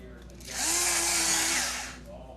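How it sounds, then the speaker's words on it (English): An electric pepper grinder runs in a kitchen while crab dip is being made, a loud steady whirring burst of about a second and a half that rises and then cuts off, with faint talk before and after. "Turn the little piece in the center for the pepper grinder to make it finer."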